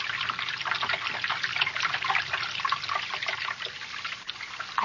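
A trickling water sound effect in an old-time radio drama, with continuous bubbling and dribbling flow close up and no talk over it.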